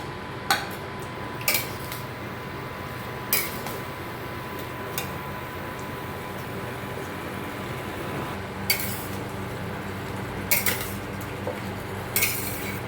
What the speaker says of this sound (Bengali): নেড়ে নেড়ে ভালো করে কষে একদম মাখা মাখা টাইপের করতে হবে